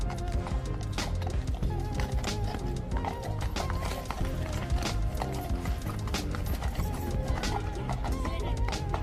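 A royal guard's horse's hooves clip-clop steadily over a hard surface, with snorting and whinnying amid busy background noise from tourists.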